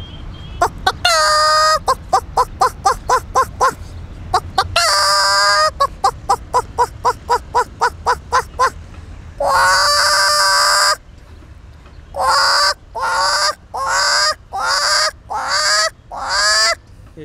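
A voice imitates a series of chickens and roosters, including crowing and clucking, with rapid repeated clucks, long sustained crow-like calls and a run of short squawks, loud and close, with no other sound around them.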